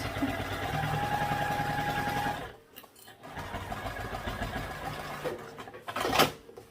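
Sewing machine running basting stitches across a tote bag: a steady, close mechanical whir that stops briefly and then starts again, with no talking.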